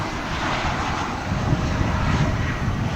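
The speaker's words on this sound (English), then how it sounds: "I think that Alaska airplane, we see that in the mornings here right about that time." An Alaska airplane at DFW airport rumbles with a broad, steady jet roar, loud and close, swelling slightly toward the end.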